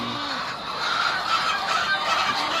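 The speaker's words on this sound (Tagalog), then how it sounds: "minsan nakikisalo tong mga manok namin dito" A dense flock of fowl murmurs and squawks continuously, with scattered sharper calls rising above a steady background of bird noise.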